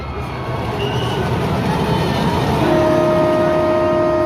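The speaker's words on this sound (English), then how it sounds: "I never heard the horn around this section." Sustained horn tone at a roller coaster station at Six Flags New England, loud and steady over a busy background rumble, with a second pitch entering partway through.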